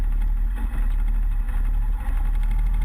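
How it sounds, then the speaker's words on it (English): A 2013 Moto Guzzi California Touring cruises along the seafront at Cannes, its engine giving a steady, low, even drone with some wind rush and no talking. "even when you put it into fast mode, it's still by no means aggressive, and the bike just plods along and pulls very easily"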